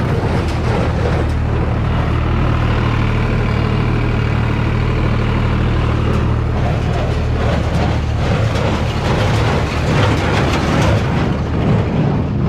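A SAME Frutteto tractor pulls an Ürmaksan S690 baler tying alfalfa bales, its engine a loud, steady, close drone that runs unbroken throughout with no talk.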